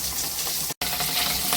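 Taro root slices frying in oil sizzle with a dense, steady crackle, close up, broken by a brief dropout in the middle.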